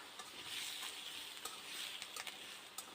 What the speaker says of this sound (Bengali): দেখেন বাঙ্গি আলুগুলো দেওয়ার পর হালকা নেড়ে চেড়ে নিব।